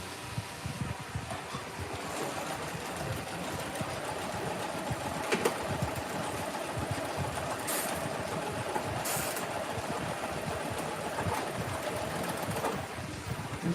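A sewing machine stitching a row of a quilt, a steady whirring, rapid mechanical chatter running continuously at close range for over ten seconds.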